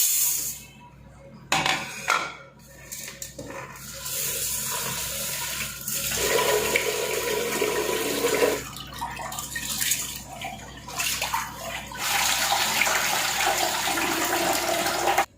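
Rice is washed under running water for a home-cooked family meal. Water rushes and splashes loudly and close for the whole stretch, with brief dips and a few sharper clatters.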